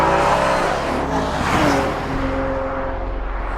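A 2014 Porsche Panamera 4S with a direct-injected twin-turbo 3-liter V6 runs with a strong, steady engine roar that swells and eases slightly, close and loud, with no talking.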